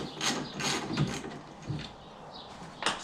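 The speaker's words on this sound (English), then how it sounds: "gonna go ahead and take these two screws off" Screws being worked loose from a Ford F-150 tail light, a few short metallic ratcheting clicks and scrapes up close in a quiet space.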